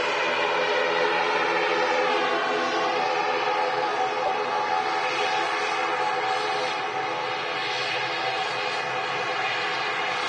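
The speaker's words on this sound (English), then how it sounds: "This regional heading off to Dublin, taxiing past us here" A regional airliner taxiing at Manchester Airport, heard as a loud, steady jet engine whine and roar that holds at a constant level without letup.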